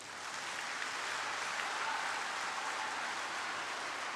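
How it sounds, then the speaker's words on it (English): An audience of secondary school students at a Model United Nations event in Ogun State claps hands together in a steady, dense wash of applause, moderately distant and without a break. "if you are tired, clap your hands together"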